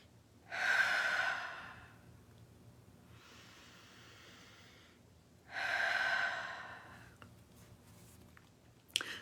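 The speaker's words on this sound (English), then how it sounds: "Take a breath." A person takes two deep breaths, each a long audible breathy inhale or exhale, close to the microphone and separated by a quieter breath, in an otherwise quiet room with no speech.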